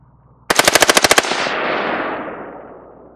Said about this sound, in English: the recoil action of the gun should cause it to simulate full auto fire